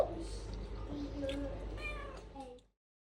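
A cat meows several times up close, drawn-out and plaintive, over a low hum before the sound cuts to silence.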